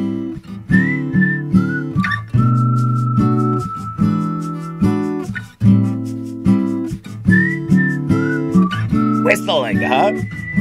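A melodic whistled tune rides over a rhythmic strummed guitar-like accompaniment, with a warbling flourish near the end.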